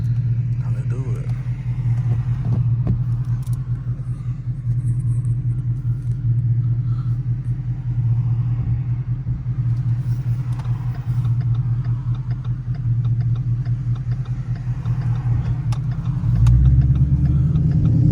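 A Ford Mustang GT driven at night in the rain, heard from inside the car: a steady, loud low engine rumble runs throughout and swells slightly near the end.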